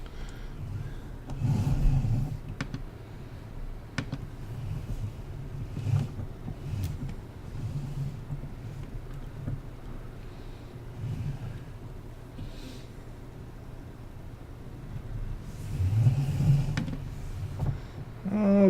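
A tractor engine in the video game Farming Simulator 19 drones steadily throughout, a low rumbling hum with occasional clunks and a brief louder surge near the end, carrying a heavy weight.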